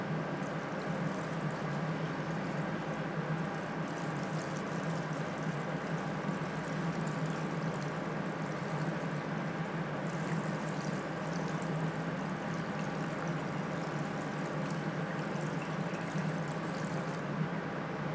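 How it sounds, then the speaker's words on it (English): Paint remover concentrate pours steadily onto a model trolley car, a continuous close liquid trickle and splash that runs unbroken at an even level with no talking. "I'm just going to take the concentrate and pour it straight onto the model"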